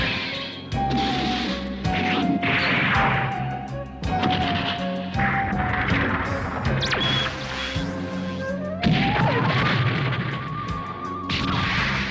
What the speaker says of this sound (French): pourquoi cette explosion?